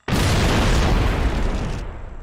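A single loud gunshot in a video game hits suddenly, then rolls into a broad booming roar that decays over about two seconds before cutting off, with no speech.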